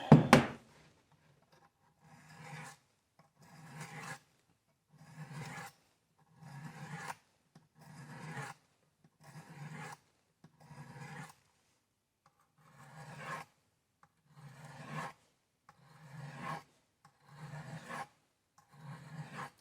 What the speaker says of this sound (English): It's been so long since I've sharpened knives like this.